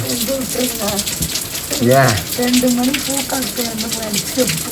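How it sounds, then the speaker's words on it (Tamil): Heavy rain pours down in a steady, dense hiss that runs the whole time, with voices or singing sounding over the downpour. "மழை பாருங்கள் கொட்டுது ஊத்து ஊத்துதடி வானம்"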